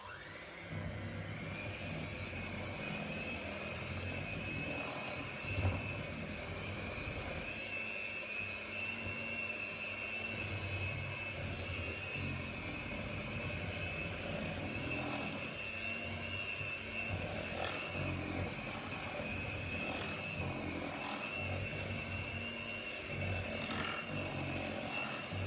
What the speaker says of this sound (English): I'm now going to whisk it for a couple of minutes just to literally blend everything together.